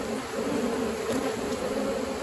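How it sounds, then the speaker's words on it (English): Agitated honey bees drone in a dense, continuous close-up buzz around an opened hive during a nectar flow, loud and steady with no voices. "Have you guys ever had bees this mean on a nectar flow?"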